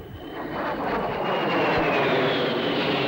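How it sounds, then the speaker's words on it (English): A Kestrel vertical-takeoff jet sweeps past fast and low, its loud, steady engine roar rising and holding with a slowly falling whine as it passes. "Everyone enjoyed the accelerating transition, followed by a fast,"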